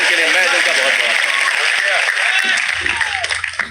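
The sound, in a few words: audience applause for poet Balkavi Bairagi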